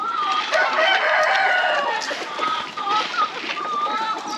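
Large breed chickens on a Jamaican animal farm: a dense, continuous chorus of clucking and crowing from many birds close by, with a rooster's crow rising above the flock.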